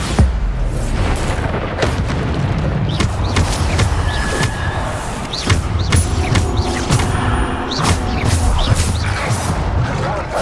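In Hogwarts Legacy, a Bombarda spell blasts amid continuous, loud, dense combat noise, with booming explosions, crashing debris and sharp impacts layered together throughout.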